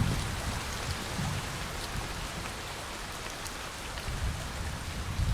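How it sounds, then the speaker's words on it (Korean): Steady rain falls through a forest near an old temple in Gangjin, a dense continuous patter of drops on leaves and surfaces with no voices, fairly even throughout. "비가 옵니다. 비가 오는 숲은 나쁜 걸까요? 좋은 걸까요?"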